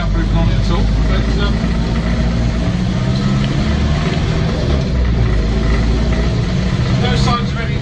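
Engine of a Land Rover Series 1 86in station wagon with no soundproofing running on the move, a loud steady low rumble that fills the whole stretch without a break.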